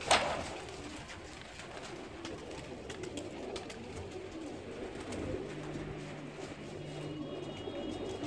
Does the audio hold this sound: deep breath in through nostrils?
no